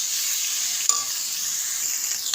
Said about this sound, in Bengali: এবার ভালো করে সয়াবিনগুলোকে আমি ভেজে নিচ্ছি।